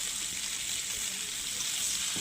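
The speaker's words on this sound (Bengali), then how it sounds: "তেলের মধ্যে আমি জিরে তেজপাতা ফোড়ন দিয়ে এর মধ্যে ফুলকপিগুলো আমি ভেজে নেব, ভালো করে লাল করে ভেজে নেব।" Cauliflower frying in hot oil tempered with cumin seeds and bay leaf gives a soft, steady sizzle, faint and continuous with no voices.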